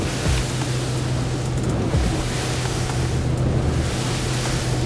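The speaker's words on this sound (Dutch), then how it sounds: "nu komen we in die mooie hekgolven, een beetje swell-achtig" An 8.5-metre, 2500-kilo Honda-powered boat pushing through swell-like stern waves, with steady loud rushing water and wind buffeting the microphone throughout.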